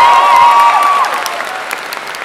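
Loud clapping from a convention conference audience, with a whistle-like tone at the start, then the applause thins and fades to scattered claps.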